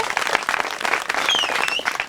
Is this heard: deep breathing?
no